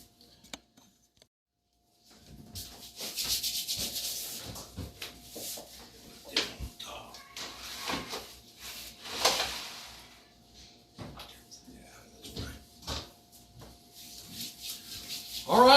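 Oven trays slid in and an oven door opened in a home kitchen, heard as scraping, rubbing and knocking clatter with a few sharper bumps, close by, after a brief quiet start.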